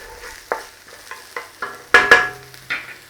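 Garlic and onion stir-fry in a pan for a Chinese chicken and broccoli oyster sauce dish, heard as a series of close, sharp scraping stirs and short sizzling bursts roughly every half second.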